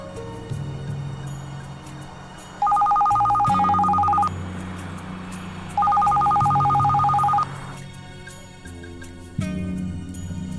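A telephone rings in two bursts of electronic trilling, separated by a pause, over a low steady background hum.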